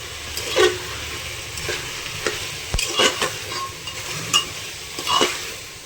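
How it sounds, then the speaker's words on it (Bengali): Potato and pumpkin being fried with ground spices and a splash of ginger water in a pan, a spatula scraping and knocking in repeated strokes over a low sizzle, close and with no voices. "ভালো করে কষিয়ে নেব"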